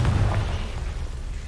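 A Confringo fire spell in Hogwarts Legacy bursts in a single deep, booming explosion that rumbles loudly at the start and fades into a low roiling tail.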